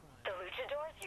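A smartphone in the Saints Row The Third video game gives a brief electronic tone sequence, a short warbling chime of about a second, fairly faint.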